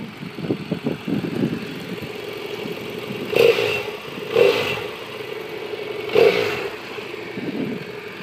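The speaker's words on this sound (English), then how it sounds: "It's that smooth parallel twin from BMW." A 2013 BMW F700GS motorcycle's parallel-twin engine runs steadily at idle nearby, with three short throttle blips rising out of the smooth, even hum.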